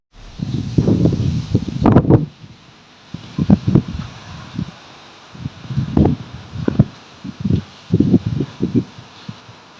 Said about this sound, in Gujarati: જોયું ને, વરસાદની શરૂઆત થઈ ગઈ છે અત્યારે